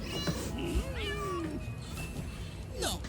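A cartoon cat meows in a few gliding, wavering calls over a busy soundtrack with other voices and music in the background.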